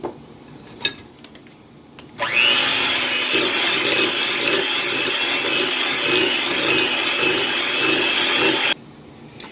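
An electric mixer beating cream cheese pound cake batter, starting abruptly after a few light clinks and running as a steady, close, loud whirring drone for about six seconds before cutting off.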